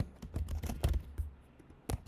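Typing on a computer keyboard while entering an ice cream shop's name into a web form: quick bursts of crisp key clicks close to the mic, with a short pause before a final few taps.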